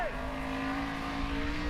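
A 1,000-horsepower nitrous-boosted Nelson Racing engine in a Formula Offroad race car at full speed, a steady loud roaring engine drone holding a high pitch throughout.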